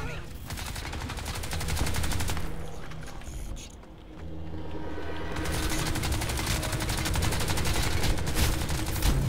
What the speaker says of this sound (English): I fucking shoot him and he doesn't die